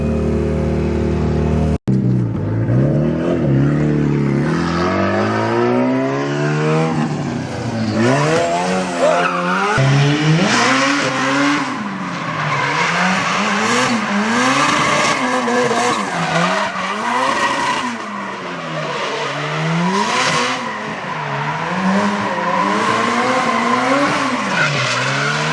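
A Nissan S13 drift car rips around a compound lot, its engine revving in rising and falling sweeps while tires squeal and skid almost continuously, loud and close for the whole stretch.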